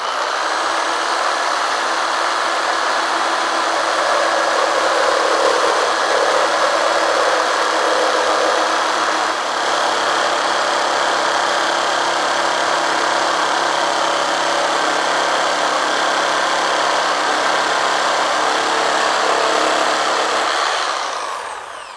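Black & Decker KS900EKX jigsaw cutting through wood, a loud steady high-pitched motor whine with sawing texture that runs continuously for about twenty seconds before cutting off.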